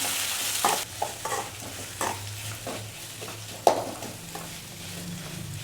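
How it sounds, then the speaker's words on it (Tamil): Onions sizzling in a pan with intermittent stirring scrapes, a soft steady fry underneath and a few sharper clinks of the utensil. "இப்போ நல்லா வதக்கி விட்டுக்கலாம்."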